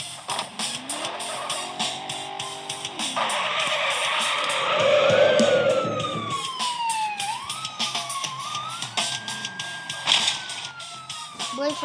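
Police car siren in the video game Mad 2, wailing and sweeping up and down over engine noise and skidding tires, fairly loud and continuous throughout.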